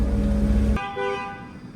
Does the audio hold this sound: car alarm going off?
yes